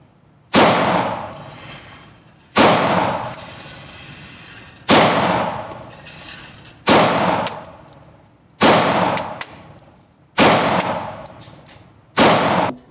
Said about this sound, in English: The Glock 19X chambered in 9mm.